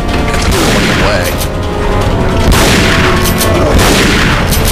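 Gunfire and booming impacts in the Resident Evil 4 Separate Ways video game, with a shooter firing from a distance; dense, loud repeated blasts and crashes over a rumbling background, with voices talking underneath.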